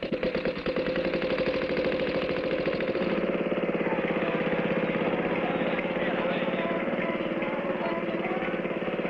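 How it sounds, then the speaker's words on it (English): A motorized rickshaw engine in a vintage Clutch Cargo cartoon makes a loud, steady buzzing putter that drones on without pause. "Here comes a motorized rickshaw."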